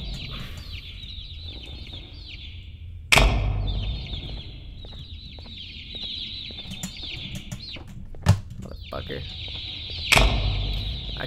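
Cartoonish birds cluck again and again in the Garten of BanBan II video game, a chattering, fowl-like squawking broken by three sharp thumps.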